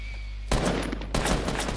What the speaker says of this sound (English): Is he just shooting at the ramp?